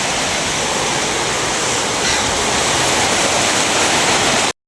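Rain pours outdoors near a pond in a steady, loud, dense hiss that stays even throughout with no voices, then cuts off abruptly.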